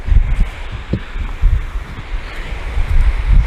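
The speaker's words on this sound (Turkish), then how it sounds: "Çok rüzgar esiyor" Strong wind buffeting the microphone in low, rumbling gusts that rise and fall continuously, loud and close, with no voices, at a mountain lake campsite in Turkey.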